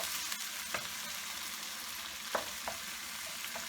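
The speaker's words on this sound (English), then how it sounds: "I'm going to keep on sauteing until the onions and the garlic and tomatoes are blended in" Curry leaves, onions, garlic and tomatoes sauteing in a pan for prawn curry, a soft continuous sizzle with a few sharp spoon clinks and scrapes, fairly quiet and free of speech.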